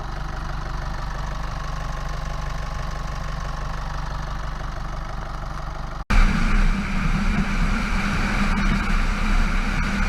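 A 2017 Chevrolet Colorado ZR2 with the 2.8 Duramax diesel idles with a steady, slightly knocking clatter, heard from nearby, then jumps abruptly louder and closer partway through, continuing evenly.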